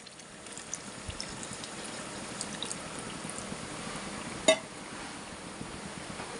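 Tamarind juice pours steadily into a simmering Telugu-style fish curry, giving a soft, continuous liquid wash with one brief sharper splash or clink partway through, and no talking.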